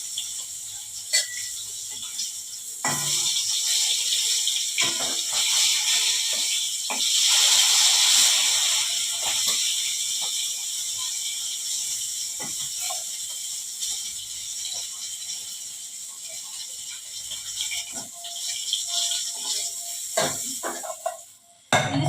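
Hilsa fish fries in hot oil, giving a steady sizzling hiss with small crackling spatters throughout. The frying is close and fairly loud, with brief handling knocks and faint voices here and there.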